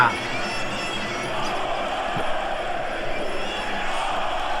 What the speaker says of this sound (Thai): เสียงเฮเสียงฮาเสียงเชียร์กับของบรรดาพี่น้องแฟนบัดมวยเนี่ยลั่นสนาม